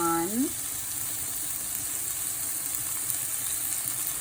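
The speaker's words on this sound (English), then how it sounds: "So we are frying now chopped onions" Chopped onions fry in melted grass-fed butter ghee in a pan, giving a steady, close hiss and sizzle that fills the whole clip. A brief voice-like tone sounds at the very start.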